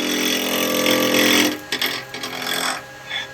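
Wood lathe spinning as a 5/8 spindle gouge cuts wood on a perfume pot, a steady loud whirring scrape that breaks off halfway into shorter intermittent cuts and pauses.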